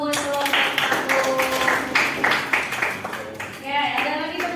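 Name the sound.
applause for group one in a classroom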